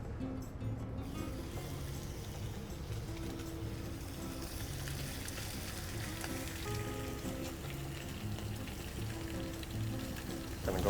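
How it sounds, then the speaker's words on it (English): Meat sizzles in oil in a pan, making a steady, soft, dense crackling hiss that lasts throughout with no pauses or voices. "Adding a little bit more oil just so we can sizzle up the meat and let it brown."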